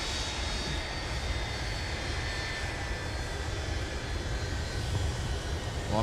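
A large airliner touches down on a snowy winter runway at Minneapolis–St. Paul airport, a steady distant roar of jet engines with a faint whine, moderately quiet and continuous with no voices.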